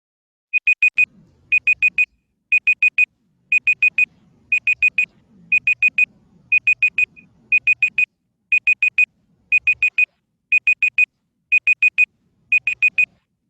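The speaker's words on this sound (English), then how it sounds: "That little buzzer that everybody heard, time's up." Timer buzzer at a Class 1 CFOA basketball event, a loud electronic beeping repeated in quick triple pulses at a steady rhythm, about thirteen bursts in a row, with faint murmuring in the background.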